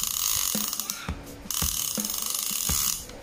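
Fast mechanical clicking of a Penn Fathom 25NLDLH overhead fishing reel's clicker, a dense buzzing ratchet that runs in bursts with brief pauses, close and loud.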